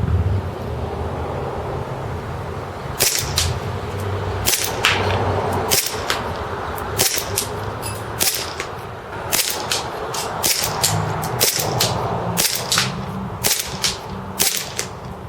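A WE Black Lagoon M9 gas blowback airsoft pistol on propane fires 0.2 gram BBs outdoors: after a quiet start, sharp snapping shots follow one another every half second to second, loud and close over steady wind noise.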